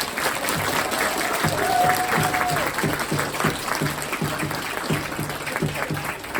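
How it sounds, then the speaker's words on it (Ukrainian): Parents clap for young football players at an autumn youth tournament award ceremony, sustained crowd applause with some rhythmic clapping, while a voice speaks over it and a brief whistle-like tone rises early on. "батьки вболівальники давайте оплески для наших юних футболістів"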